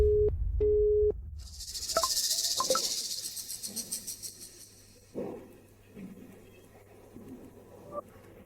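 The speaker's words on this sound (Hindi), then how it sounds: "सुई सुई फोन क्यों नहीं उठा रही?" A repeated electronic ringing tone of an unanswered phone call beeps briefly at the start, followed by a loud hissing burst and scattered quieter clicks and noises.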